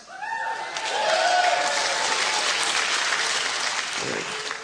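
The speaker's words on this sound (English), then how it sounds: "Thank you for your applause" Warm applause from a comedy-club audience at a Rhod Gilbert stand-up set in Montreal, a steady crowd of clapping hands rising quickly and holding, with brief voices near the start.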